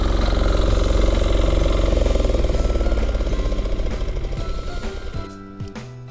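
A Yanmar A-10V cultivator engine chugs loudly and close while tilling a paddy field in third gear, a steady pulsing mechanical rumble that thins toward the end.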